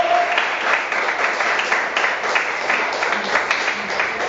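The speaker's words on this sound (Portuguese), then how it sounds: "Palmas ao Senhor Jesus" A church congregation claps for Jesus during a sermon, a full, steady round of applause that stays loud and even throughout, with a little voice mixed in.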